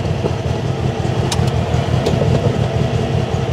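An air-cooled VW engine idles steadily while warming up with a remote oil filter and thermostat fitted, giving a continuous, even low rumble heard close up with a few faint clicks on top.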